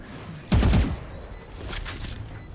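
Gunfire in a Valorant esports match: a sharp close burst of shots, followed by fainter scattered shots and game effects, with no talk over them.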